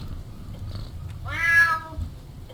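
A scruffy old cat in the video game Last Days of Lazarus gives a single drawn-out meow, clear and close over a low, quiet background hum.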